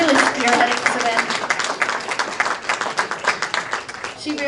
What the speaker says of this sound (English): a big round of applause for Stephanie for really spearheading this event